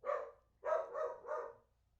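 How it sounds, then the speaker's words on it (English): Dogs bark indoors in a quiet room, reacting to something outside: one bark, a brief pause, then three quick barks in a row, moderately close and with no talk over them. "my dogs hear something outside"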